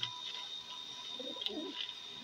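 A pigeon coos softly and at a distance, giving a brief low, murmuring call against a quiet background hiss.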